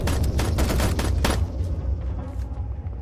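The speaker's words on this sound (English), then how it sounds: "Hey, what are you shooting at?" Gunfire in a zombie survival video game, a loud rapid burst of repeated shots for about a second and a half, then fading into rumbling echoes and quieter ambience.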